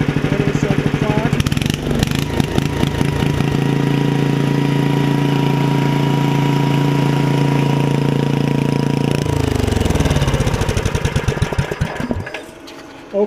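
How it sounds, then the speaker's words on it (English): An 8 hp Briggs & Stratton engine for a Giant Vac blower runs steadily at a fast, even idle, loud and close, after a rougher start, then winds down near the end. "Okay, we got a good running 8-horse Briggs Stratton for the blower."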